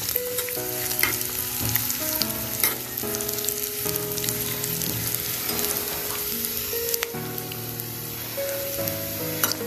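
Raisins and cashews frying with grated coconut in a pan for pumpkin payasam, giving a loud, continuous close sizzle with crackling pops and occasional scrapes of a spoon, and no talking.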